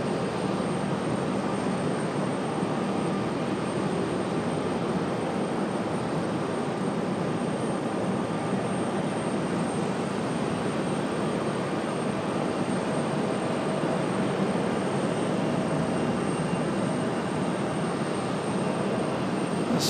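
A Frontier Airlines airplane on approach at Raleigh-Durham airport gives off a steady, even engine roar that holds at one level throughout, with no voices over it.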